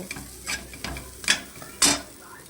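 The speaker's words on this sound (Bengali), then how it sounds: "তো আমি এর মধ্যে একটু নুন আর একটু হলুদ দিয়ে দিলাম, দিয়ে এটা ভেজে নিচ্ছি।" Vegetables frying in a pan with salt and turmeric, stirred in bursts: a few sharp scraping, sizzling strokes stand out over a low background hiss, with no voices.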